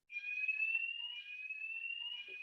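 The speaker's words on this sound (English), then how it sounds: "Apologies for just having a quick fire alarm test" An indoor fire alarm test sounds as one continuous high electronic tone, steady and unbroken for the whole stretch, moderately loud and alone with no talking.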